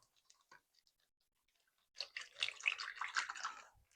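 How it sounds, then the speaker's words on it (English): Water pours into a small plastic bag, filling it about a third full for homemade hand warmers. A steady close splashing gurgle runs for a couple of seconds after a few faint crinkles and taps. "take our smaller bag and maybe about 1/3 fill water"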